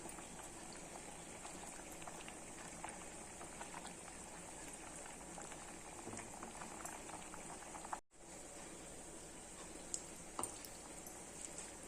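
A pot of sambar with tamarind water bubbles at a steady rolling boil, constant soft gurgling and popping, briefly cut off by a short gap.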